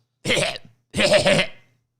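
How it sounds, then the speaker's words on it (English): Two harsh coughs, one short and one longer and doubled, close and loud with silence between. "I like to cough on people."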